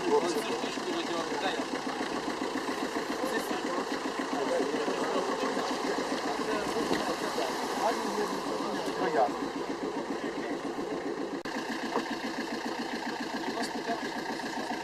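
A Jeep's diesel engine idles with a steady low chugging rumble, close by and continuous, with faint background noise.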